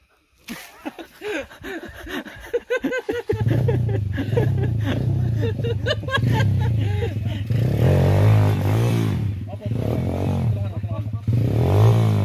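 Underbone motorcycle on a dirt trail ride through the Baguio Benguet mountains, engine droning and revving steadily after a burst of clattering, with people talking and laughing over it.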